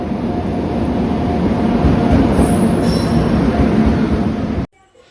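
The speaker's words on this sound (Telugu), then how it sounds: "మేము ఎక్కే ట్రైన్ అయితే వస్తూ ఉంది." A train pulls into a station, a loud, steady rumble of rolling wagons with faint wheel squeal that holds for several seconds and then cuts off abruptly.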